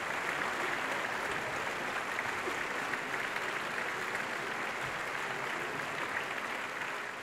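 A theatre audience bursts into sustained applause for Napoleon's composure after an assassination attempt, a dense, even wash of clapping from many hands throughout, with no voices.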